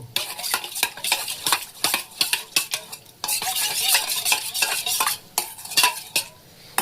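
Maida flour is stirred into half a cup of water with a spoon, giving quick, rhythmic clinks and scrapes against the bowl, close and fairly loud, with no talking.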